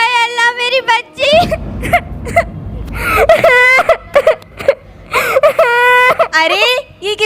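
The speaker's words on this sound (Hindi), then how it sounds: "अरे ये किसकी रोने की आवाज़ है?" A woman wails and sobs loudly in rising, drawn-out cries broken by gasps and short pauses, part of a staged drama at a school event.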